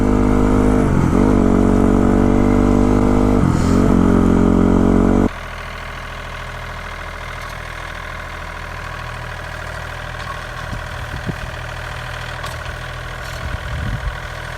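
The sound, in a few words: motorcycle engine revving during a wheelie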